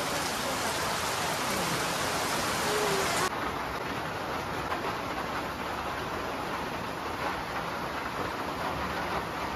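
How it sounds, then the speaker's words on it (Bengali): Heavy rain falling hard, a dense continuous roar of drops that stays loud and unbroken, with no voices over it. "তো এদিকে দেখো আরও জোরে জোরে বৃষ্টি শুরু হয়েছে।"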